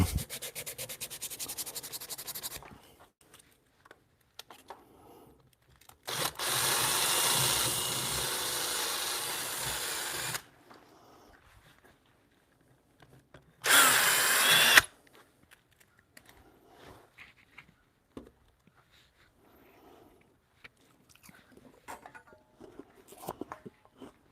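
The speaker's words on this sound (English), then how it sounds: "Welcome all the people that will tolerate power tools." Power tools carve a wooden spiral ribbon rail in a workshop, with several loud bursts of rough sanding or grinding of a few seconds each, separated by quieter stretches of small handling noises.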